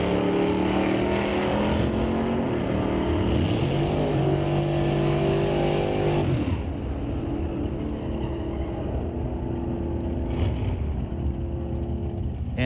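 Drag race at Mission Raceway Park between a 2016 Dodge Challenger and a 1983 Oldsmobile Cutlass, loud engines roaring and rising in pitch through the gears, then fading as the cars pull away.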